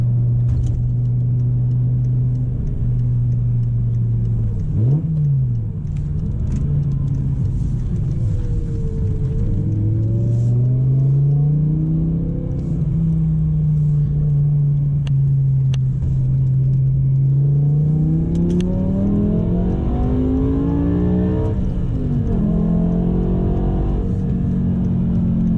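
BMW M6 with V10 engine and manual gearbox pulling hard on a highway, a loud steady engine drone rising in pitch through gears with a brief shift dip, continuous close-up interior rumble and no talking.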